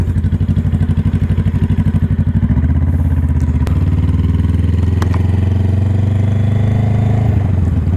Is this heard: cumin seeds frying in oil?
no